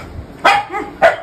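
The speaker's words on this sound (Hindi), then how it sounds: "ये भौंक रहा है कि मत जाओ कि मत जाओ" A dog gives two quick, loud, close barks, with a softer yip between them.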